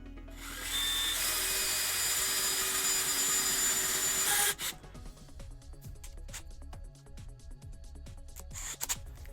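A drill bit boring into aluminum over resin: a loud, steady high-pitched whine for about four seconds cuts off abruptly, then sparse clicks and handling taps follow.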